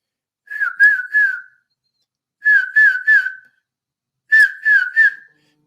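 A person whistles an imitation of a tufted titmouse's 'Peter' call, three clear phrases of about three rising-falling notes each, evenly spaced with silent gaps, close and alone.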